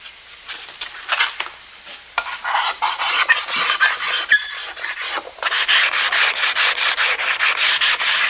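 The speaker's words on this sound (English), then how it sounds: "So now it's both sides are sanded." Hand sanding of a thin, springy wooden piece supported on a block of wood, with brisk back-and-forth abrasive strokes, close and fairly loud, in a steady scratchy rhythm with no talking.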